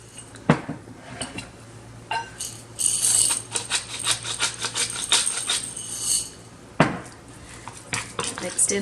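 A spoon stirs a salt-and-pepper-seasoned potato finger mixture in a bowl, giving repeated clinks and scrapes against the dish, fairly faint and close, with a few sharper knocks.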